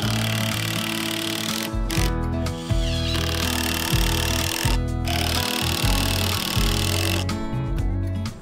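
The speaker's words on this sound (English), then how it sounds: "go ahead and put our screws in to hold it in place" A power drill drives screws into a 2x4 wooden post, with several separate whirring bursts broken by short pauses and rising pitch as each screw seats, close and fairly loud.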